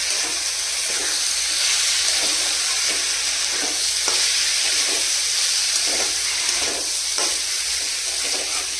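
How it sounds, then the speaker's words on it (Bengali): Washed rice being stirred and fried with spices in a pan for khichuri: a steady close sizzle and hiss runs throughout, with repeated scrapes and stirring clicks from a spoon against the pan. "আর এবার ধুয়ে রাখা চালটা দিয়ে দিচ্ছি, মশলাগুলোর সাথে মাখিয়ে নিই।"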